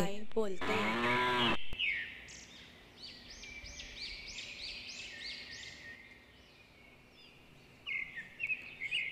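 A cow gives one loud, close, drawn-out moo, followed by birds chirping and tweeting in the background of a quiet outdoor scene.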